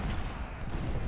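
Massed musket fire in the video game Ultimate General: Civil War, a dense, continuous crackling roar of many shots blended into one loud, unbroken volley.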